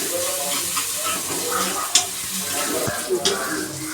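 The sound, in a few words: onions frying in coconut oil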